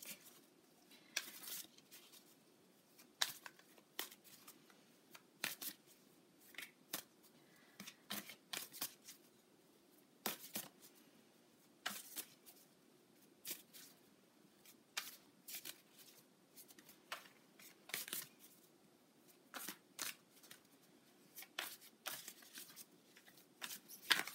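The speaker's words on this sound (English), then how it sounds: "I would like to pull a card from my moon deck" Tarot cards from a moon deck being shuffled over and over, quiet papery riffles and slides in an irregular rhythm, close by, with no voice.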